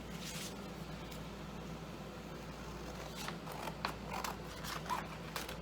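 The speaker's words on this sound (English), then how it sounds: "Use my scissors to cut it out." Scissors cut through a thin plastic Dollar Tree cutting board. Faint, close snips and crunches come in the latter half over a steady low hum.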